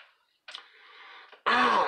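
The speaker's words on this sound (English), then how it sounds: "Clear my throat." A single person clears their throat, a rough rasp followed by a louder, fuller gravelly burst, close and alone.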